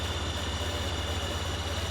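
A tracked tractor engine in Farming Simulator 15 runs at a steady low drone, a constant even hum with no rhythm changes and no talk.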